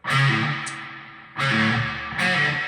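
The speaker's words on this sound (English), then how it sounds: "It's like almost a squeal to it." Loud, heavily distorted electric guitar bursts ring out three times, with a thin high squeal sliding in after the first burst.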